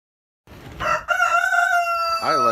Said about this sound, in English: I like that chicken right there.